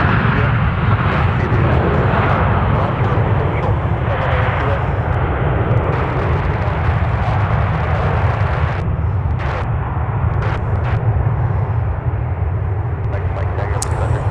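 An airplane departs from runway 17 at Minneapolis–Saint Paul airport, its engine roar loud and broad at first, then gradually easing as it climbs away.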